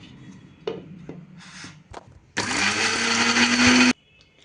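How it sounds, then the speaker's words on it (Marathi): A mixer grinder blends onions and tomatoes without added water for a tomato curry, a loud, steady whirring grind running for about a second and a half after a few soft knocks and handling clatter. "आपण त्यामध्ये टोमॅटो घालून सगळं पुन्हा मिक्सरमध्ये फिरवून घ्यायचं"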